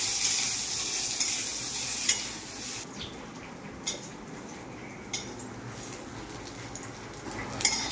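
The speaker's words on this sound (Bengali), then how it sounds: "এবার বেগুনগুলো ভেজে নেওয়া হবে।" Brinjal pieces frying in mustard oil for sukto, a steady loud bright sizzle throughout with occasional soft clinks and stirs, close up and without voices.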